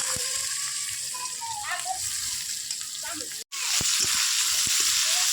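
Dried red chillies, bay leaves, whole cumin and chopped onion sizzle in hot oil in a Bengali kitchen, making a steady close hiss broken by a brief cut and then a louder frying crackle.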